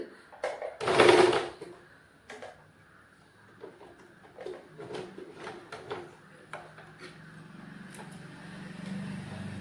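Sewing machine stitching a hem along a folded fabric edge, heard as short quiet whirring runs and clicks after one louder burst, with gaps of handling noise between them in a quiet room.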